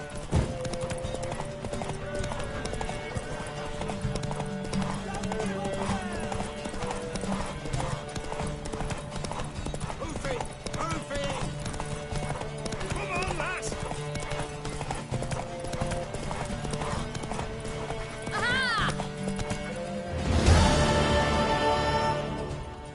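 Rhythmic hoofbeats of a galloping horse over a musical score in the video game The Witcher 3, with horse whinnies breaking through near the end, loud and close.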